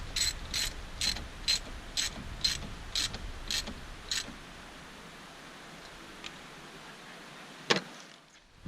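A ratchet snugs down the negative battery terminal on a wrecked Dodge Dart, clicking in about nine quick, evenly spaced bursts before stopping, followed by a few faint clinks and one sharper knock.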